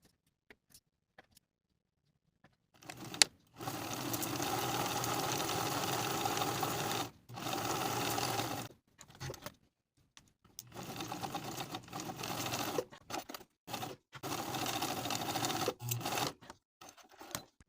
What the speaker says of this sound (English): while I'm at the sewing machine, I'm also going to baste the side and top edges of the pocket to the skirt